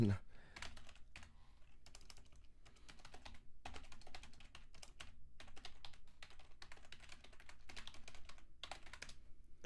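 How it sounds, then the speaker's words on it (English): Fast, forceful typing on a computer keyboard clatters in dense bursts of keystrokes throughout, close and steady, with brief pauses between runs. "I need to not be an angry typer"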